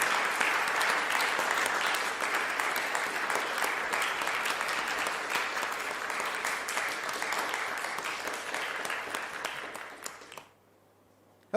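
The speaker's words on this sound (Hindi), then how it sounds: "जोरदार तालियों के साथ" A crowd at an award ceremony honoring recipients bursts into long, steady applause, loud and dense at first, gradually thinning before cutting off abruptly near the end.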